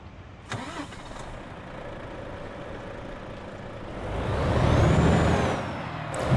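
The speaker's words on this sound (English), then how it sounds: "let's listen to this beautiful FMX truck. Let's start it here and let's listen to this engine." A Volvo FMX truck with a 13-litre D13 engine in Euro Truck Simulator 2, heard from outside: a hiss of air and a starter crank, then a low diesel rumble that swells loudly and settles into idle, with no voices.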